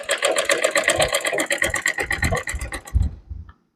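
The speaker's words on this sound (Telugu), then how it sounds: "ఇదిగో కుట్టేసేయాలి." A sewing machine stitching the double-folded hem of a straight piece of cloth, a fast steady mechanical chatter up close that slows into a few separate thumps and stops near the end.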